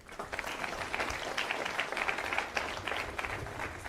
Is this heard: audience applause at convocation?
yes